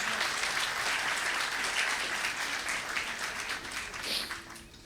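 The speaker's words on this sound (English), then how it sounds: "One more round of applause" Audience applause at a city State of the City address, a steady broad wash of many hands clapping that holds strong for several seconds before tapering slightly toward the end.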